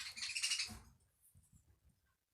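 Birds in a video game chirp in a quick, bright burst, then fade away, leaving soft low rumbling sounds underneath.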